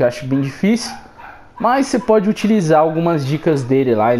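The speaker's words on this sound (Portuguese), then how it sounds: "Tem um cachorro latindo na rua" A dog barks out in the street during Portuguese commentary on GTA San Andreas for PS4, the barks loud and mixed in under continuous close talking.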